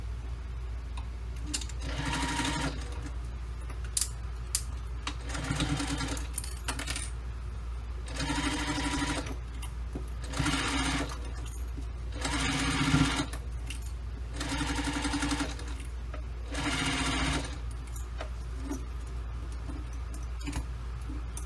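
A sewing machine stitches in repeated bursts of steady mechanical whirring, separated by short pauses, over a constant low hum.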